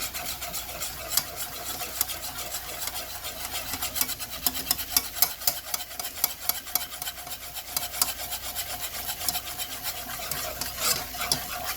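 A whisk scrapes rapidly and continuously around a pan as gravy is made from pan drippings, a near, rhythmic rasping over a faint sizzle.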